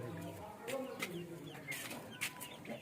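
Hens cluck close by while small chicks cheep in sharp, repeated high bursts, with a faint voice in the background.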